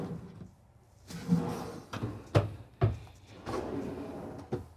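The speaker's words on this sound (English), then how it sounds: "More space, and then we have 2 drawers here as well." Full-extension drawers in a 2022 Newmar Ventana 4326 motorhome sliding open and shut, with several close, sharp thumps and rattling slides in quick succession, without speech.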